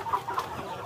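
A two-coloured rooster on a farm gives soft, short clucks, a few quick notes in a second, moderately close against a low background rumble.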